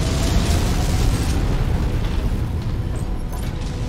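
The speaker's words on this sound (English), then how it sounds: "Incoming missile." In MechWarrior 5 Mercenaries, incoming missiles explode as a dense, continuous, loud rumbling roar that fills the whole stretch and fades slightly toward the end.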